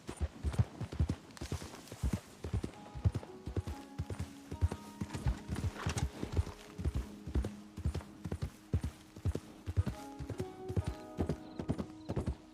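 A horse's hooves clip-clop in a brisk, even rhythm as it trots and gallops in Red Dead Redemption 2, each hoof strike crisp and close, with a few faint tonal game sounds in the background.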